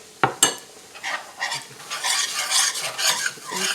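Flour being browned in a frying pan is stirred briskly: a couple of sharp knocks at the start, then repeated close scraping strokes of the utensil over a faint sizzle, with no voices.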